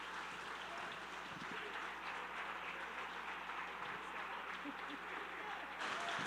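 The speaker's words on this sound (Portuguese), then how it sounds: "E aplaudindo bem forte" An evening church audience applauds to welcome a pastor, sustained clapping at a moderate, fairly distant level, with voices and shouts mixed in and a slight swell near the end.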